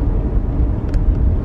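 Passing road traffic, a steady low rumble of car engines and tyres at moderate loudness, with a brief higher hiss partway through.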